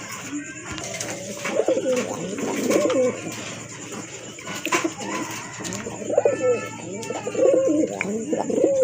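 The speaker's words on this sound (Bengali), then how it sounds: "আরেক জোড়া কবুতর দেখেন বোম্বাই কবুতর" Bombay pigeons coo repeatedly in close, throaty bursts, several overlapping warbling calls that rise and fall throughout.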